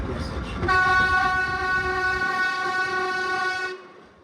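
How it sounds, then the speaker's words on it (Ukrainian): A 1982–84 Faur narrow-gauge tourist train leaves Piaseczno station in Poland, its loud, steady horn blaring for several seconds over the rumble and clatter of the moving cars. "Зі станції П'ясічно поїзд стартує о 14 годині"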